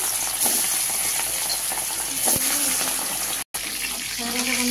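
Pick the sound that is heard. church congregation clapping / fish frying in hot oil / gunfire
fish frying in hot oil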